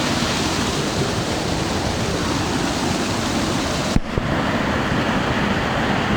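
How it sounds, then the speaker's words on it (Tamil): Water pours down Kaigal Falls in a loud, unbroken roar of broadband rushing noise heard from close by, steady throughout apart from a brief knock partway through. "பின்னாடி இந்த தண்ணி விடுறது பாருங்கள் எப்படி இருக்கு."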